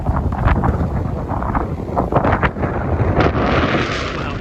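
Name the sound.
strong wind blowing in riverside park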